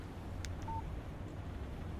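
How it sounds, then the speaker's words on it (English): A phone text message alert in Alan Wake Remastered: one short, clean electronic beep against a quiet background. "Text message from Barry"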